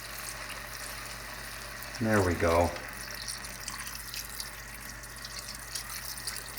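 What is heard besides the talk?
water being poured into a pot of Hungarian goulash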